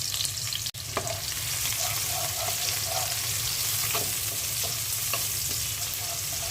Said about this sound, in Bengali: এখন আমি ফিশ বল ভাজা তেলের মধ্যেই পেঁয়াজ কুচি দিয়ে দিচ্ছি